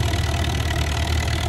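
Vintage tractor engine running steadily at a tractor pull, a loud continuous low rumble with no break across the short stretch.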